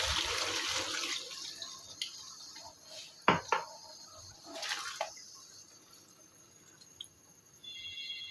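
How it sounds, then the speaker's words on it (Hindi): A cup of water poured into kebab masala in a pan, a splashing pour at the start followed by clinks of utensils and quieter stirring sounds. "अब मैं इसमें शामिल कर रही हूँ 1 कप पानी।"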